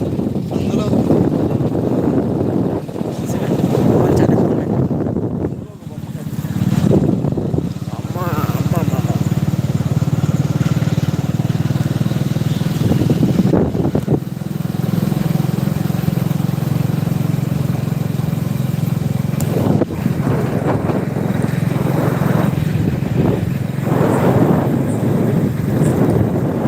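Strong wind roars steadily for nearly half a minute, with a low engine-like rumble underneath and a few short dips, while a person talks intermittently.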